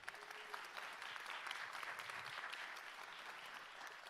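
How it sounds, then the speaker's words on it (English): An audience at a chamber of commerce candidate forum gives a steady, fairly distant round of applause that holds evenly for a few seconds. "Please help give a round of applause for Rick Rogers and Samantha Dowdy."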